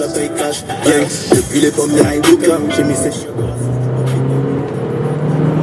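A car accelerating, with engine tones climbing and shifting under some road noise, fairly close and loud, settling into a steadier drone toward the end.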